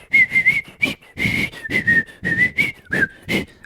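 A single person whistles a melody in short repeated phrases, close and clear, with brief breaks between notes.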